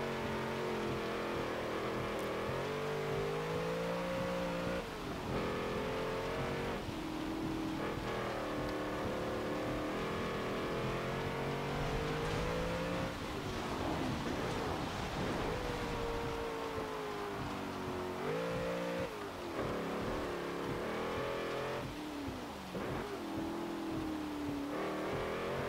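A 2016 Toyota Land Cruiser Arctic Trucks AT37 engine in a Forza racing game drones steadily and loudly, its pitch climbing and falling through shifts and throttle changes over a sustained run, with no talking.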